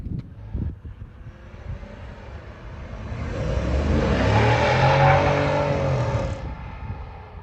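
A 2021 Ford F-150 King Ranch pickup with a 5.0 V8, ten-speed automatic and 6-inch coilover lift pulls away, engine rising to a loud, steady roar before easing off.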